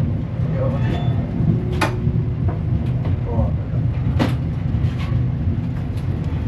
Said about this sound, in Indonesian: Sampai stasiun Bojonegoro, pemberhentian pertama kereta api Argo Bromo Anggrek.